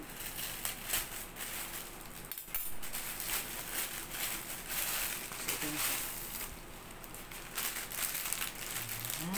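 A crinkly plastic package holding lace arm sleeves is torn and opened up close, with continuous crackling and rustling, brief louder crunches and faint background noise.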